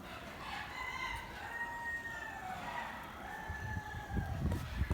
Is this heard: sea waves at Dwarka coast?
no